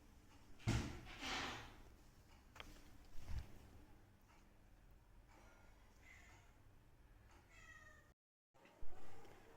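A new cat meows indoors in a closed-up house, several short cries mixed with thumps and a door-like bang, fairly quiet overall with a brief silent gap.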